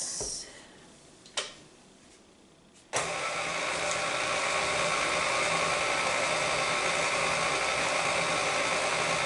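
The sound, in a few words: electric mixer mixing lime cake batter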